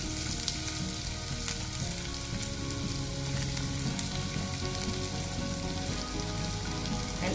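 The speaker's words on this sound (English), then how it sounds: "as my oil has become hot, I will be adding this chopped onions to it" Chopped onions sizzle and fry in hot oil in a pan, a dense, steady crackle continuing throughout at moderate volume, close up with no talking.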